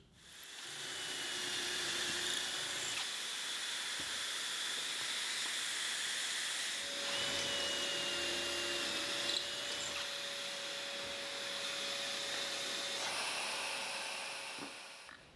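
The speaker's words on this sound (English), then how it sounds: "I'll drill pocket holes on the inside of these two outside pieces" A drill bores pocket holes into wooden planter box pieces, a steady whining hiss sustained in three long runs with short pauses between, heard alone.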